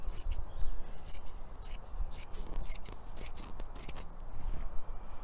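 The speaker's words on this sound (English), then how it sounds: "I'm going to cut it in half with my scissors" Scissors snip through fabric in a series of short, crisp cuts, close up and fairly quiet.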